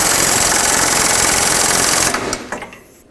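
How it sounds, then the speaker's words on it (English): Pneumatic air impact gun snugging a bolt on a 2004-2008 Acura TL front suspension, a loud continuous rattling hammer for about two seconds that then stops, leaving brief clatter and quieter shop noise. "Just going to make it nice and snug with the air gun."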